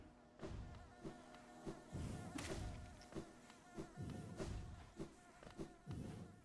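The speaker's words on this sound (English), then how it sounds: "Bees." Bees buzzing in a video game, a continuous droning hum with soft rhythmic thumps that pulse roughly every half second, moderately close and steady throughout.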